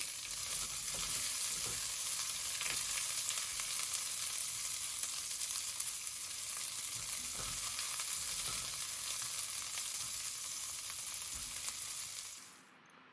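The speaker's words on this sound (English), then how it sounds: "take this hot oil and we're going to throw in our ginger and our lemongrass first" Ginger and lemongrass frying in hot oil, a steady bright sizzle that stays loud and even throughout before cutting off abruptly at the end, with no talking.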